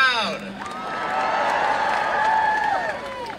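Rally crowd at a climate strike in Iowa City cheering and clapping, with whoops and shouted voices rising over sustained applause, fairly loud throughout.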